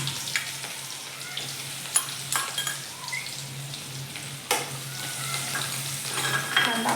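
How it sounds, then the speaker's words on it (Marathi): Finely chopped onion fries in oil with spluttered mustard seeds and cumin for a sprouted moong curry, a continuous close sizzle broken by occasional stirring knocks and scrapes against the pan. "बघा आपला कांदा थोडासा छान तळत आलाय"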